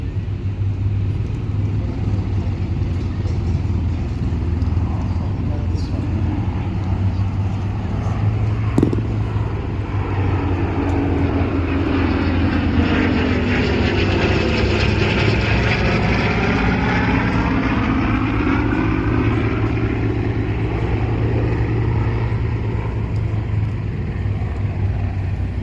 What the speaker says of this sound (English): The B-25 Sweet Dreams